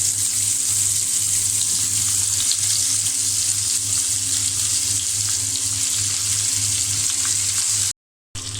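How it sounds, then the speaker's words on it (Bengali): Shing fish coated in turmeric and salt frying in hot oil, a loud, continuous close sizzle with a steady low hum beneath it and a brief cut near the end. "আমি এখন মাছ ভেজে নেব"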